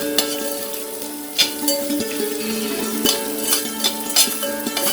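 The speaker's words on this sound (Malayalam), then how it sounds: "നല്ലോണം ഒന്ന് റെഡിഷ് കളറാവണ വരെ നമുക്ക് ഇളക്കാം." Breadfruit masala stirred in a hot pan, steady frying sizzle throughout with repeated scraping and knocking of a spoon against the pan at irregular intervals.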